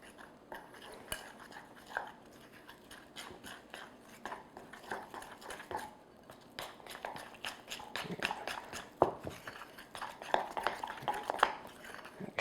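A spoon stirs lemon juice and sugar frosting in a bowl, giving a run of close, irregular scraping clicks and taps that grow a little louder toward the end.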